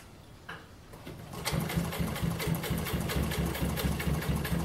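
A Rex 26-188 walking-foot industrial sewing machine starts up after a quiet moment and runs steadily, its motor hum carrying a fast, even, rhythmic stitching clatter up close.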